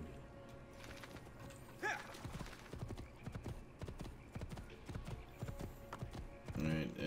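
Horse hooves clip-clop steadily on hard ground in Assassin's Creed II, a rhythmic run of close hoofbeats with a brief whinny-like burst near the end over ambient game noise.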